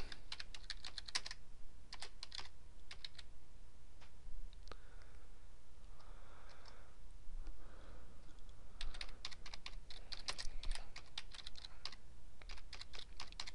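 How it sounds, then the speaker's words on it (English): Fast bursts of typing on a computer keyboard, a clear run of keystroke clicks that stops briefly midway and then resumes, fairly faint over a steady background hiss, no speech. "I'm going to type, with it highlighted, I'm just going to type it out."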